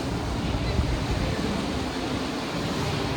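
Cruise ship Independence of the Seas getting under way, a loud continuous rush of waves and wind buffeting the microphone, dense and steady throughout with no clear voices.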